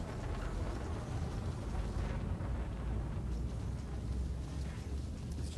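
Frameshift drive charging aboard a ship in Elite Dangerous, a steady dense rumbling roar that holds at an even level throughout with faint higher hiss layered over it.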